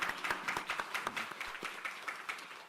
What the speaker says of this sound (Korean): 하나님 앞에 영광의 박수 한 번 더 하겠습니다.